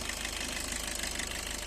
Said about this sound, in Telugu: ఇంజన్ సౌండ్ చూసుకుంటే ఇట్లా ఉందండి